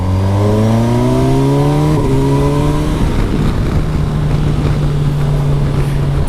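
A Kawasaki Versys 1000 SE GT four-cylinder motorcycle runs loud while being ridden, its engine rising in pitch through gears, then settling into a steady drone mixed with rushing wind noise; no speech.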